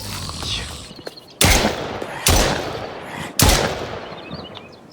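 Three loud, sharp gunshots from the video game Far Lands, each a close broadband blast spaced about a second apart with decaying tails, over faint game ambience.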